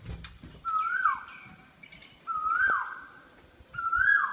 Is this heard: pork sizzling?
no